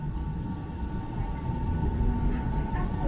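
A steady low rumble of a Shenzhen subway train running, with a faint hum and a slight rise in loudness toward the end.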